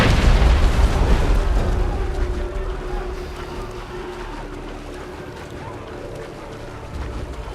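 In Assassin's Creed 3, a bomb detonates on a ship with a loud, deep boom, and the rumble slowly fades into a long roar of wind and water, with no talking.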